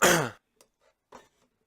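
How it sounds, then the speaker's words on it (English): One rough throat clearing up close, a short raspy burst, followed by faint small mouth sounds in an otherwise quiet room. "Sorry that I keep clearing my throat,"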